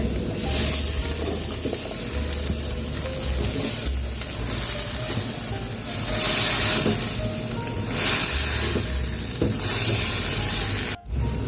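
Water spinach stir-frying with sugar and oyster sauce in a hot pan, giving a steady loud sizzle with recurring surges and scraping stirs throughout, with no talk.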